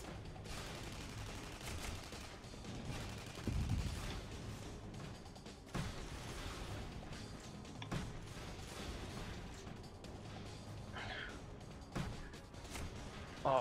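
Gunfire in the sci-fi shooter game Tribes Ascend: sharp shots crack out intermittently over a continuous bed of battle noise, fairly faint overall.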